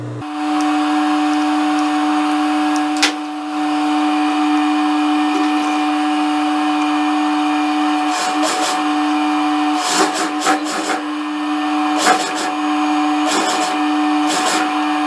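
Sewing machine stitching the armhole seam of a blouse, a steady close mechanical whir with a constant tone, broken by a few brief stops and restarts late on.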